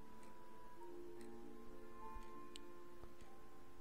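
A steady, sharp clock tick repeats evenly in the video game A Dinner Date to Forget, mixed with soft tonal game sounds and a quiet background drone.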